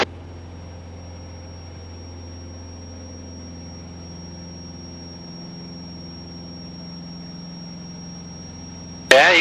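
A Van's RV8 homebuilt aircraft engine drones steadily through the takeoff roll, a loud low hum with sustained harmonics, ending in a sudden burst of louder noise.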